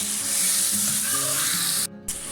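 Minced meat for qeema pulao fries in a pan with a loud, continuous sizzle as it is stirred and mixed. A short silent gap follows, then a soft clatter, with no speech.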